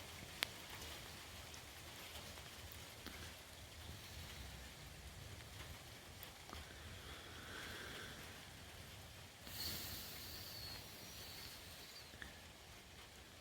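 Rain falls steadily outdoors during a fishing trip, a soft, even hiss of drops with occasional faint taps. It stays quiet and distant throughout, with no voices.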